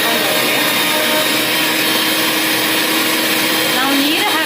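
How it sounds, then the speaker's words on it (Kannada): A mixer grinder blends cut watermelon pieces with no added water, its motor whining loud and steady at close range for the whole stretch, with a brief rising change in pitch near the end. "ಇವಾಗ ಮಿಕ್ಸಿ ಜಾರಿಗೆ ಹಾಕ್ಕೊಂಡಿದ್ದೇವೆ"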